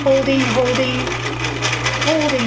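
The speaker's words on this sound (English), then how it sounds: "let's keep sewing in that circle, maneuvering it all the way around till you get the entire circle" A sewing machine runs steadily while stitching fabric around in a circle, its continuous motor hum sitting underneath a person talking throughout.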